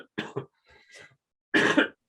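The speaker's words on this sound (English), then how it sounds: "Excuse me again, I'm going to cough." A person coughs in a few sharp bursts, two quick coughs early, then a softer throaty sound and a louder, longer cough near the end, close and alone in an otherwise quiet room.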